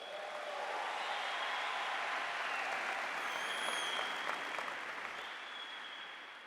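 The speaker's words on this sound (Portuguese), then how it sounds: "Pode aplaudir quem está me ouvindo." An audience applauds during a sermon, a dense, sustained wave of clapping from a large crowd that holds steady at full strength, then eases slightly toward the end.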